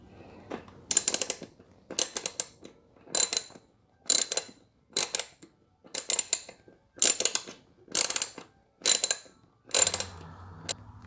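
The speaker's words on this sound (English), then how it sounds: "10 mil socket, so that's what we're going to be using to take the seat off." Ratchet fitted with a 10 mm socket turning a motorcycle seat bolt, about ten evenly spaced bursts of quick metallic clicking, each roughly a second long with short pauses between, close and crisp.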